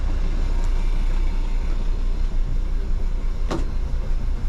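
A Jeanneau NC 33 boat's engine runs steadily above 4,000 RPM during a sea trial, a constant broad droning roar mixed with wind and water noise, with one brief sharp knock near the end.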